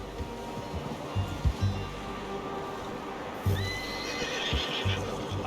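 A horse in Red Dead Redemption 2 neighs faintly at a camp, over low rumbling thuds that could be hooves and a steady bed of background noise.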